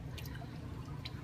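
Water being scooped by hand during a water change on a 75-gallon reef tank, giving a couple of soft, close splashes and drips over low background hum.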